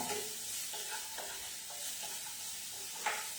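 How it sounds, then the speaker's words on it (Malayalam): Spices sizzle in hot butter for a paneer cashew roast, a steady close crackle broken by several sharp scrapes and taps of a spoon stirring the pan, with no voices. "അതിൻ്റെയൊക്കെ പച്ചമണം മാറുന്നത് വരെ നന്നായിട്ട് ഇങ്ങനെ വഴറ്റി കൊടുക്കണേ."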